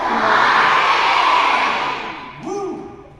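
An elementary school crowd at a Veterans Day assembly cheers and whoops loudly, a broad roar that swells, fades, then gives way to a brief lone shout at the end.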